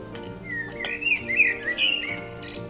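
Birds chirping outdoors, a run of bright, close whistled tweets and trills over a low background murmur.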